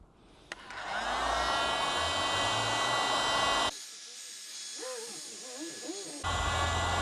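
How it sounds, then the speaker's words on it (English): A heat gun, used on a BMW G310R motorcycle, blows hot air with a loud, steady whooshing roar. It cuts out briefly, a voice is heard during the gap, and then the roar resumes. "I'm going to put the heat gun on"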